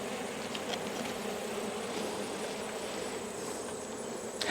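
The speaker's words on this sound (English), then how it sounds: "There are definitely more bees down here." A dense, continuous buzz of many honey bees in a hive, close by, steady and loud with no pauses.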